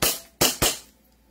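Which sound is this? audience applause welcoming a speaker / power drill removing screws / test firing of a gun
test firing of a gun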